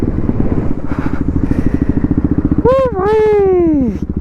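Motorcycle engine running close by with a steady rumbling idle, while a loud rising and falling whistle-like tone cuts in near the end.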